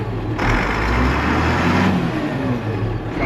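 An Allis Chalmers tractor engine revs hard after a gear shift, a loud close roar that swells, holds, then eases back slightly, with a rough rumbling idle beneath.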